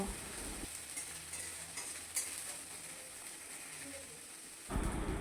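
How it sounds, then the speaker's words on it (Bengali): Ground ginger and cumin paste stirred and fried with chilli and onion in a wok, a soft steady sizzle with faint scraping, quiet and close, louder bursts at the start and end. "এবার লঙ্কা আর পেঁয়াজের সাথে মশলাটা ভালো করে নেড়েচেড়ে ভেজে নেব।"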